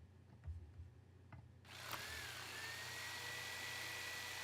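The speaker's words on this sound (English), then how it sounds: "So maybe I actually want like a power drill." A power drill bursts on abruptly and keeps whirring steadily and loudly, with a constant high motor whine, after a quieter stretch of faint background clicks and taps.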